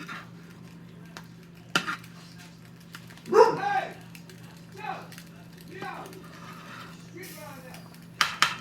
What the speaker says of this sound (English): That's Albert hollering at the dogs out the window